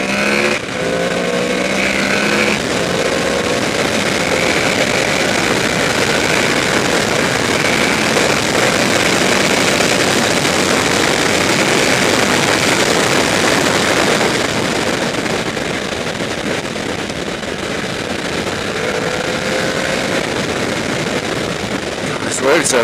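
A 2014 Honda VFR800F V4 VTEC motorcycle engine revs up while overtaking on a rough road, its rising whine buried in loud, constant wind rush for the whole stretch.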